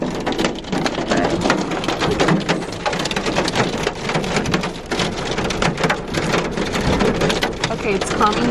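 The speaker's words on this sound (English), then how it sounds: "It started hailing like crazy, and you see a bunch of people pulling over." Heavy hail and rain drum steadily on a vehicle during a thunderstorm, a dense, loud, continuous clatter of impacts with low rumbling underneath.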